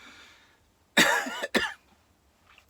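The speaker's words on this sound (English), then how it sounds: "sorts out that tickly cough" A single harsh cough bursts out, followed quickly by a second shorter one, close and loud against near silence.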